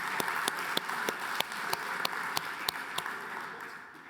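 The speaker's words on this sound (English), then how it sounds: "Can we get a round of applause?" A small audience at a tech showcase event claps for a volunteer, scattered, fairly distinct hand claps falling in a loose rhythm over a soft bed of applause that fades out after about four seconds.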